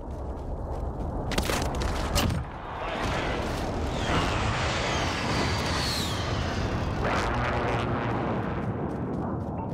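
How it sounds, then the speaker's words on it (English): Airstrike explosions in a military shooter video game: a dense, loud roar of blasts and rumbling debris fills the whole stretch, with a sharp crack near the start and a sustained booming wash after it. "Got an airstrike on me."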